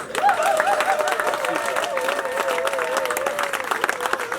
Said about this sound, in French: je vous demande d'applaudir pour eux